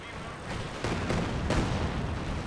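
Artillery fire in the Company of Heroes 2 strategy game, a few dull booming blasts in quick succession over a rumbling battlefield background.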